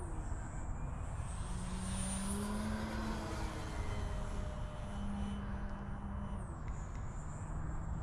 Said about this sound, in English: Wow, what an easy plane to fly.